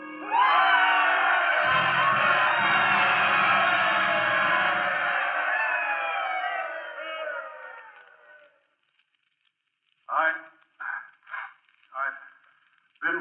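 Ballpark crowd cheering in a radio drama, a loud sustained roar of voices and whoops that swells, holds for several seconds and then fades into silence, followed by someone speaking.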